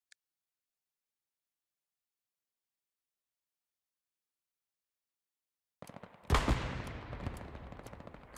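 Machine gun fire in the Hell Let Loose video game: after long near-silence, a loud sustained burst of rapid automatic shots erupts and continues to the end.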